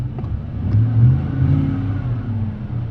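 The gas engine of a 2015 Chevy 1500 pickup fitted with a lift kit revs at close range. It gives a low rumbling note that swells up and settles back twice, with no one talking.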